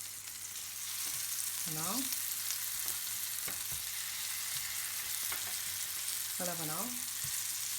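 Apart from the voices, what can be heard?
plum quarters cooking in a pan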